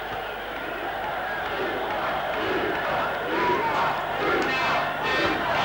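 Football crowd at a Division One match between Watford and Manchester United, a loud, continuous roar and chanting that swells toward the end, reverberant and distant-sounding.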